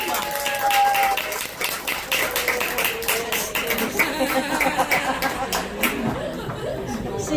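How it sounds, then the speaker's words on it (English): Guests applaud at a farewell dinner, a lively round of clapping from a crowd with chatter and a few laughs mixed in, fading toward murmuring voices near the end. "Let's give her a round of applause."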